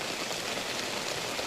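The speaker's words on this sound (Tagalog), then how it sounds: "Grabe yung ulan dito." Heavy rain pours steadily onto plants and soil in a garden, a dense, continuous hiss of water with no pauses and no voices.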